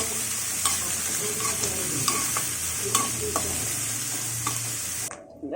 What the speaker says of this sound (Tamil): வெங்காயம் நல்லா கொஞ்சம் வதங்கட்டும்.